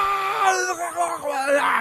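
A voice imitates a person screaming while vomiting, a strained, wailing, gurgling cry that rises and falls in ragged bursts for under two seconds, close and loud.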